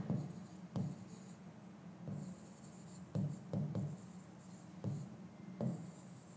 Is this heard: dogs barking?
no